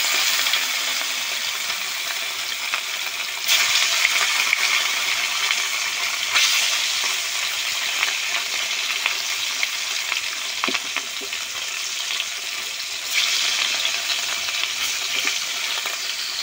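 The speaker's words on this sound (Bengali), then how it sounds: "বাকি মাছগুলো একই রকমভাবে ভেজে নেব" Pieces of rohu fish frying in hot oil, a continuous bright sizzle that swells and settles as the pieces are turned, with occasional spatters and no voices.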